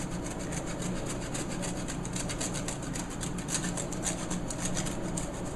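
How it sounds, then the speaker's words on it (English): Fresh Parmesan cheese is grated over a homemade pizza, giving a close, continuous rasping scrape with regular rhythmic strokes throughout. "now I'm just gonna grate some fresh Parmesan on top of it"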